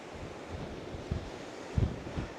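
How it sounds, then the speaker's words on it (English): Strong wind buffeting a clifftop above the sea, with continuous gusty rumble and several sharp low thumps of wind hitting the microphone, backed by a broad hiss of distant surf. "Wind's definitely a lot stronger up here, has to be expected"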